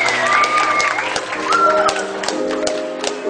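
Guests at a wedding in California applaud the newlyweds, a dense burst of clapping beneath music and a voice on a microphone.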